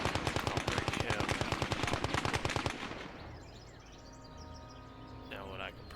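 Machine gun fire in the World War II game Gates of Hell rattles as a loud, rapid sustained burst for about three seconds, then cuts off to quieter battlefield ambience with faint distant shots.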